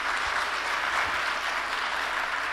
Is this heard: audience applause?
yes